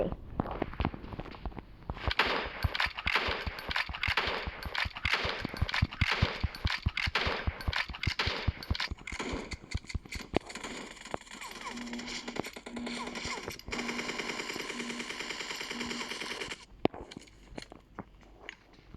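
Gunfire with recoil in the mobile game PUBG Mobile, rapid bursts of shots in a quick rhythmic series, then quieter clicks and sparse shots with a faint repeating tone.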